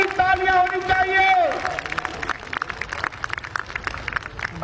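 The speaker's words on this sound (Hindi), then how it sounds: "ग्वालियर की तालियां होनी चाहिए।" Audience applause in Gwalior at a public event: a crowd claps in a dense, sustained burst after a held tonal sound fades, continuing throughout.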